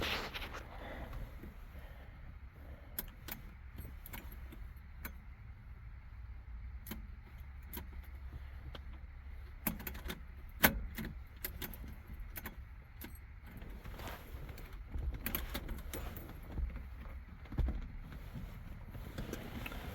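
Keys jangle and click repeatedly in a Datsun's ignition, light metallic rattles scattered over a low steady hum in a quiet garage.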